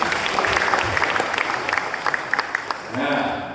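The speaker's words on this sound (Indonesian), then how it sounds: "Tepuk tangan untuk Pule." A crowd at a PGRI teachers' union branch conference in Trenggalek applauds steadily for the Pule branch, a dense clapping wash with scattered louder claps that fades slightly toward the end.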